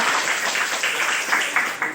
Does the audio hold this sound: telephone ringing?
no